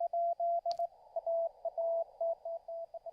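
Morse code sidetone from an amateur radio: a steady mid-pitched beep keyed in short and long elements with irregular gaps, alone and clear apart from one brief click.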